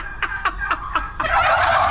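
Turkeys on a poultry farm gobble in four quick, rhythmic bursts, followed by a dense, overlapping chorus of gobbling from the flock, close and fairly loud.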